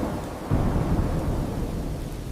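Torrential rain pours in a thunderstorm: a dense, loud, low rumble of thunder swells after a moment and rolls on over the steady wash of the downpour.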